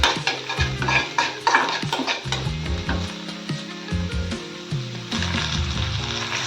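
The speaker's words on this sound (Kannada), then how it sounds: "ಹೀರೆಕಾಯಿ ಹುರಿಯೋಕ್ಕೂ ಸ್ವಲ್ಪ ಎಣ್ಣೆ ಹಾಕಿ ಹುರಿಯೋಕೆ ಇಟ್ಕೊಂಡಿದ್ದೀನಿ." Sliced ridge gourd frying in a little oil with curry leaves in a pan, a loud steady sizzle broken by repeated scraping and clinking as a spatula stirs the pieces.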